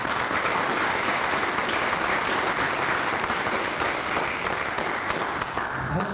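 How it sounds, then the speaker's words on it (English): An audience at the final session of a summer research workshop applauds both teams in a sustained, even round of clapping that holds steady for about six seconds and eases slightly near the end. "Let's give both the teams a big round of applause."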